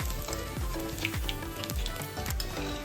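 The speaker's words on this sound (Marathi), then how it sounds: "चार ते मिनटं छान मी यांना तळून घेतलेले आहेत" Cabbage Manchurian balls deep frying in oil: a dense, steady sizzle and bubbling close by, with low rhythmic sweeping sounds running under it and no voices.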